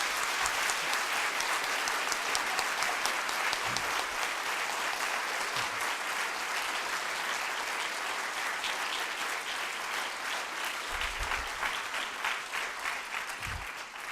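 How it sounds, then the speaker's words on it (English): A university audience at Cal Poly Pomona gives a long, steady round of applause for the visiting chancellor, dense clapping that holds at an even level throughout and fades slightly at the very end. "If we can give him a round of applause, please."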